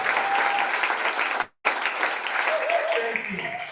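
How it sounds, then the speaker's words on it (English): Audience applause honoring honorable mentions at a national pitch competition in Burundi, broken by a brief moment of silence before resuming, with faint voices at the end. "Give them a round of applause."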